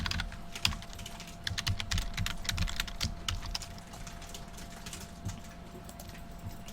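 Fingers type on a computer keyboard during Java programming work, a quick run of close, crisp key clicks that slows and thins toward the end over a faint steady hum.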